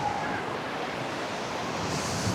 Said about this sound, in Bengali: সেই ঢেউ সেরকমের ঢেউ আসতেছে নদী থেকে